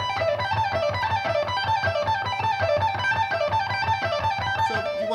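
Electric guitar with distortion plays a slow lick of pull-offs and hammer-ons on the high strings, steady and loud throughout, with no talking.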